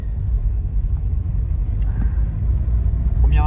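A Citroën BX on the road, its low engine and road rumble steady and loud from inside the car.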